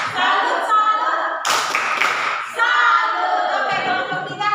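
A class joins in a short patterned clapping routine, a burst of claps near the middle set between stretches of chanting children's voices.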